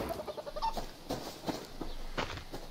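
Chicken in the survival video game Subsistence clucks in short, rapid bursts, faint and close, followed by scattered quieter clucks.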